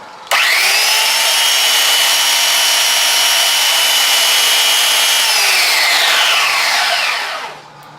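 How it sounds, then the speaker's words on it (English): A power sander runs steadily for about seven seconds on a fuel filter part from a 2000–2007 Ford Taurus, a loud, even whine and rasp that starts abruptly, then drops in pitch and winds down at the end. "I'm just gonna sand it to give me the same width"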